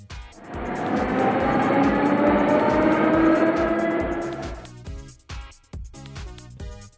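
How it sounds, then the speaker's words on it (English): A metro train passes by, its rushing rumble with tonal wheel whine swelling over a few seconds and then falling away, followed by a rhythmic background beat. "Metro."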